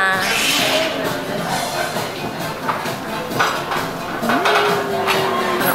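Cutlery clinks against a plate while a penne and meat stew is eaten, with light scrapes and taps scattered over steady room noise.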